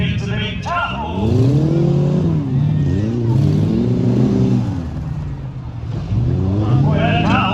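A big Chevy Tahoe truck engine revving loudly at a Tuff Truck race event, rising and falling in repeated roaring pulls close by, with an announcer's voice talking over it.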